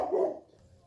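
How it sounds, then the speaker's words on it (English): A single short dog bark sounds nearby, loud at first and fading quickly into quiet room tone. "no reason for that barking."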